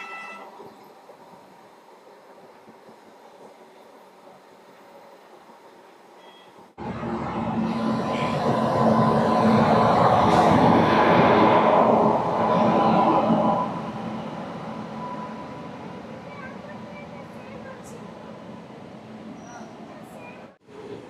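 A train on the Howrah to Puri run rumbles and rattles, quiet at first, then swelling into a loud, steady roar of wheels and carriages before easing off somewhat.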